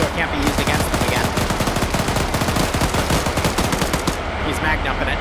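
Sustained rapid automatic gunfire in a North vs South Korea PvP video game match, a gun emptying a whole magazine in a dense, loud burst of shots that runs for several seconds.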